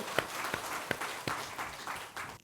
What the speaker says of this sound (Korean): 여러분을 위해서 박수